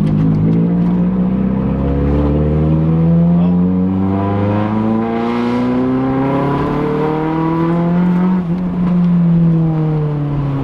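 A Nissan Kouki chassis car revs hard and accelerates through a pull, the engine note climbing steadily in pitch, dipping once and climbing again, loud and close with no talking.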